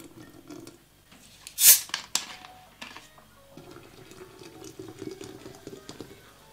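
Sparkling mineral water fizzes with a fine crackling hiss as lemon juice reacts, plus a brief loud splash or clink near the start, then steady bubbling.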